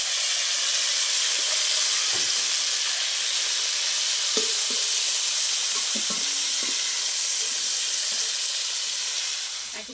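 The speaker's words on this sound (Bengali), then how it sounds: "লাল লাল করে ভেজে নেব কপিটা" Cabbage frying in hot oil in a pan, a loud, steady, close sizzle that fills the whole stretch, with a few faint stirring taps underneath and no talking.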